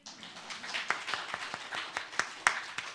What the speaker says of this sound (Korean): 박수 한번 칠까?